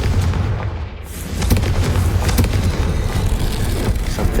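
In the video game Hogwarts Legacy, a Confringo explosion spell goes off as a loud, close, rumbling boom. A brief quieter moment comes just before the low blast swells and sustains.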